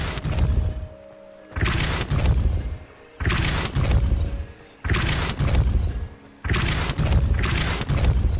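Spell impacts from the Depulso charm in Hogwarts Legacy, four loud booming bursts spaced about every second and a half, each a heavy thudding blast with a short decaying tail.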